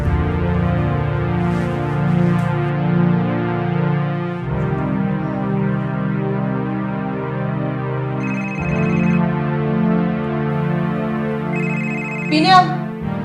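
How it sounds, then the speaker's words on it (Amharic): A phone ringtone plays a loud, close melodic tune that repeats in looping phrases indoors, with no voices over it. "አንተ ስልክ እየጠራ ነው፣ ላንሳው?"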